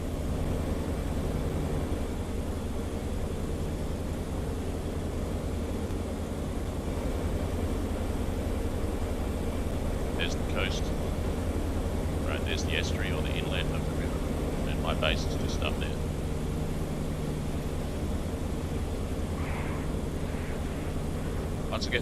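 P-47D Thunderbolt fighter engine held at full power in flight, a constant deep droning roar with a steady hum, loud and unbroken for over twenty seconds while someone talks over it.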